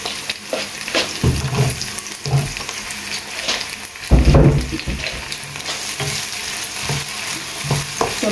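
Tomatoes tipped into onions frying in a pan for a fish curry, a loud continuous sizzle with bursts of stirring and a heavier splash of sizzling around the middle, up close with no talking.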